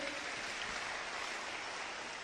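An audience claps in a dense, even wash of applause that holds steady without a break, fairly faint and heard from a distance.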